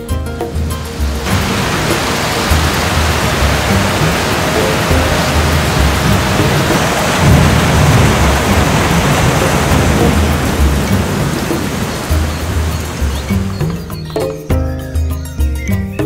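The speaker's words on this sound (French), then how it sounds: "la saison des pluies arrive" Heavy, steady rain pours down loudly throughout, with low rumbling thunder rolling underneath before the downpour thins near the end.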